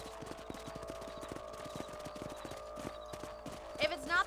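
Horse hooves clip-clop at a walking pace in Red Dead Redemption, a steady train of close, crisp hoofbeats over a low tonal game backdrop, with a brief rise of other sound near the end.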